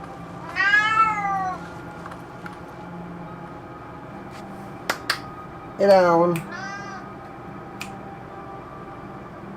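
A cat gives two distinct meows, the first near the start and the second stronger one about midway, with someone speaking briefly and faint clicks in between against a quiet background.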